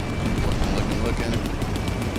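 Gunfire in the Vietnam-era shooter Hell Let Loose Vietnam, a dense rattle of distant shots and bursts rolling continuously under a busy battlefield din, with players talking over it.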